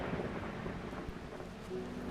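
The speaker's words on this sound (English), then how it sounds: "That thunder sound." Thunder rumbles in the video game Strange Horticulture, a deep low roll over a steady wash of rain, moderately quiet and without speech.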